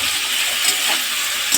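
Potatoes that were fried earlier and aubergine sauté with spices in a pan, giving a steady, close hiss and sizzle with faint stirring through the short stretch, and no voices.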